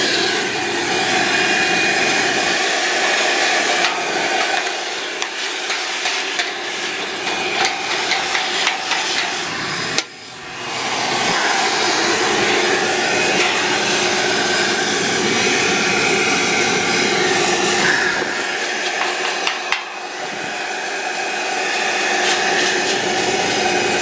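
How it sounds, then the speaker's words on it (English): A loud, continuous vacuum cleaner drones while cleaning a Ruud HVAC condensing unit, a dense steady roar with occasional knocks and scraping as the nozzle hits the unit, briefly dipping around midway before resuming. "Oh, I'm here with the vacuum."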